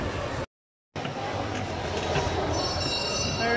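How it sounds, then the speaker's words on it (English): Steady rumble and rattle from inside a moving train carriage, with a brief dropout early on and wheels starting to squeal near the end. "We're riding on a train!"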